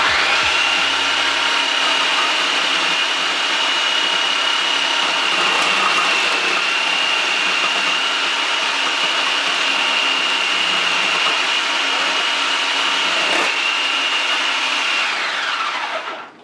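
Food processor slicing, a loud continuous motor whir with a steady high whine and faint chopping texture, running unbroken for over fifteen seconds before winding down at the end.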